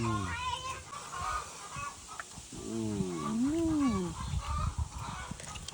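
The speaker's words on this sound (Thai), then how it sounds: "ไก่ก็พ่อไก่" Rooster clucking and calling nearby with a rising, drawn-out vocal note midway, over outdoor background noise and some mumbled voices.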